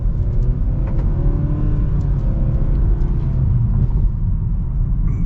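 A 2024 Nissan Sentra SR accelerating, heard from inside as a steady, loud engine rumble and road roar that holds throughout without a break.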